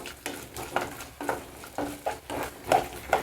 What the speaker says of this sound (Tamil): இந்த தேங்காய் வந்து இந்த நெய்யில் வந்துட்டு வறுபடும் போது